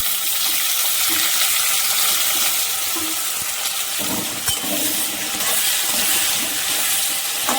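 Chopped tomatoes go into a pan of fried potatoes, and a loud, steady hiss of frying fills the whole stretch. Midway a burst of added sizzle and a clink of stirring follow, all close up.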